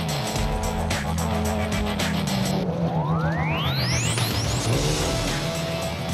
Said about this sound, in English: Their immediate target was the RFS Hilux of Hannes Grobler and Henny Ter Stegen